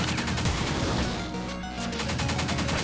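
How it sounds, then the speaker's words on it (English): Rapid bursts of gunfire from a power-up weapon in the twin-stick shooter Pineapple Smash Crew, dense and loud with overlapping shots nearly filling the whole stretch and a short lull midway. "we want to fire away and find any enemies that may be lurking around"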